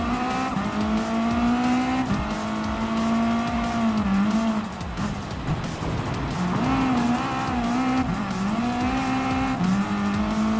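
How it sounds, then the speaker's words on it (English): Subaru WRX Gr.B rally car racing on dirt in Gran Turismo Sport video game, its engine droning loud and continuous with rising and falling revs through gear shifts, a brief dip when the throttle lifts, then pulling hard again. "Okay, let's get this WRX up and go,"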